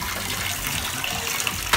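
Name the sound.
water filling a bathtub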